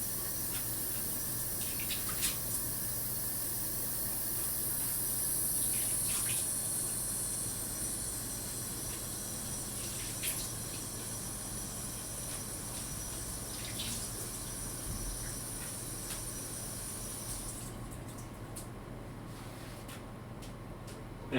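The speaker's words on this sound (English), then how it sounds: "You're gonna get some water from your sink on your fingers and you're gonna spray it a bit." Tap water runs steadily from a kitchen sink onto wet fingers while making Bulgarian banitsa, a constant close hiss for most of the clip that drops away near the end, with no talking.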